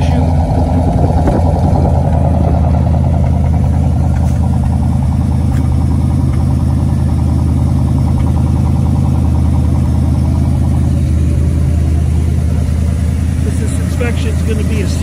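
A car engine running steadily just after a cold start, with a low rumbling idle throughout and slight rises in pitch as it revs.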